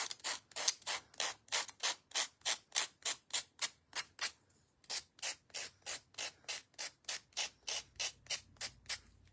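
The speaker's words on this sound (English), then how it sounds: "now we'll sand it" A wooden teapot quilt block from a DIY wood kit is sanded by hand, about two dozen rhythmic rasping back-and-forth strokes with a brief pause midway, close and alone.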